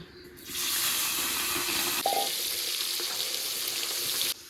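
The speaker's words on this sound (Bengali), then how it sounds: "এবার তেলটা গরম হয়ে গেছে এবার মাছগুলো ভেজে নেব" Tengra fish, rubbed with turmeric and salt, dropped into hot oil and frying with a loud, sudden surge of sizzling that holds steady and close, then cuts off abruptly near the end, with no talking.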